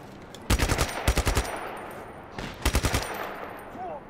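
Two tight bursts of automatic gunfire from the game Just Cause 3, each a quick string of sharp loud shots, the first burst longer, a second volley after a pause, then low ambient rumble.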